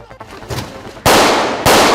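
Gunfire aimed at police, two loud sharp bursts cutting in after quieter rustling, the second following about half a second after the first burst.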